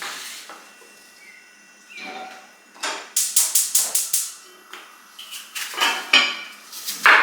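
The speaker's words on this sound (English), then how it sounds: "And then I put this on the stove to boil." A pot of steel-cut oats set down on a stovetop, with a run of sharp metallic clanks and knocks of cookware, some quick and close together, against a quiet kitchen background.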